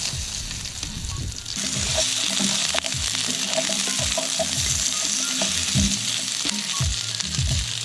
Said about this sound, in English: Just gonna cook these and toss them right into the pan.